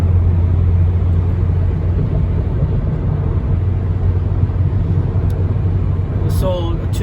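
Steady loud road rumble from a car driving east on the 60 freeway near the 605 in the Los Angeles area, a continuous low drone with road noise, and a brief chirp near the end.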